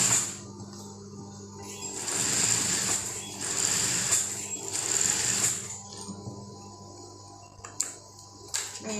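A sewing machine stitches a dress in several steady bursts of rapid whirring, close and moderately loud, with short pauses and a few clicks between runs.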